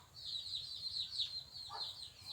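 A chicken wounded by a gunshot gives a few high, soft clucking calls over faint steady background hum, fairly near and moderate in volume.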